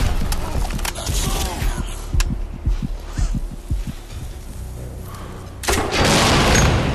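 A grenade launcher in Crysis 2 fires and its rounds explode, giving a series of muffled thumps and booms over a rumbling game backdrop, ending in a loud noisy blast.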